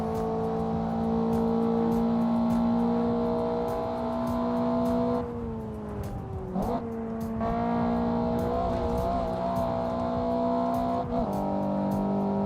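Engine of an individual-throttle-bodied family wagon in a sim racing game, holding a loud steady drone. The pitch dips and recovers mid-clip as it shifts or lifts, then drones on.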